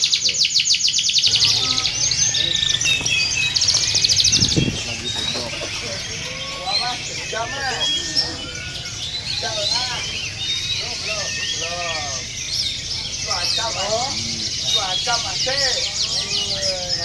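A canary recently through its moult sings in quick, bright chirps and trills throughout, with a person speaking Indonesian over and between the phrases.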